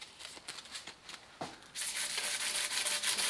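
Very coarse sandpaper is rubbed over a surface on a 1150 GS, first in short rhythmic scratchy strokes, then in a louder continuous rasping scrub, close up and with no voices.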